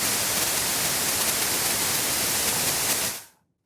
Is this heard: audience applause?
no